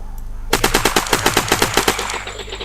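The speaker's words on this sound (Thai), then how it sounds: "ก็ตกใจอ่ะเสียงปืนลั่นตะตะตะตะเลย" Rapid automatic gunfire in the video game Unturned bursts out after a brief quiet start, a fast rattling string of shots that runs for about two seconds, loud and close.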